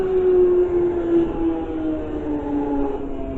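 A train pulls away from Dollis Hill station on the London Underground, a loud sustained tonal whine that slides slowly downward in pitch over a steady rumble, heard close with no talk.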